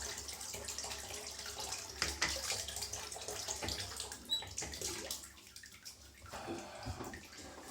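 Water runs and splashes from a tap while soap is rinsed off shaving gear, a steady faint gushing with small splashy variations and a brief quieter lull, no voices.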